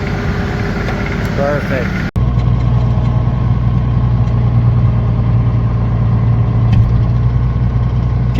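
A tractor engine idles close by in a steady, low, rumbling drone after a brief word from a man, running on unchanged for several seconds outdoors.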